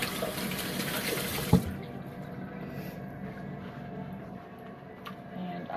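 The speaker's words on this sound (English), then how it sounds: "So I'm going to wash my hands off." A kitchen faucet runs hard for handwashing, a loud close gush that cuts off abruptly with a clack after about a second and a half, leaving faint dripping and quiet room tone.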